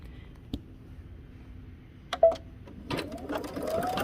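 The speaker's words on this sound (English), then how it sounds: "you can take it to the machine and stitch a 5/8 of an inch seam allowance along the edge" A sewing machine stitches a 5/8-inch seam along the edge of a pullover hoodie. After quiet handling and a couple of clicks, a soft, steady stitching whir starts and builds toward the end.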